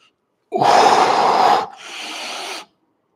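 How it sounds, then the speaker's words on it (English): A deep, audible breath drawn in during a yoga forward fold: a loud, rushing inhale of about a second, then a softer second breath, alone in a quiet room. "Here we go, collapsing forward. Big deep breath in."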